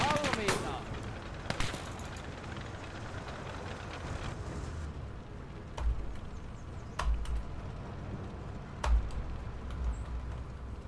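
Infantry gunfire in the Motherland strategy game, a burst of rapid shots at the start followed by scattered single heavy thumps, with a battle din underneath and someone talking over it.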